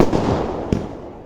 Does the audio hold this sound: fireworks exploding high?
yes